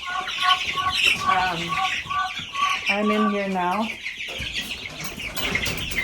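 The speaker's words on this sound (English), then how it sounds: "just feeding all the chickens" Chickens cluck and squawk in a busy, overlapping chorus nearby, with a voice briefly speaking over them.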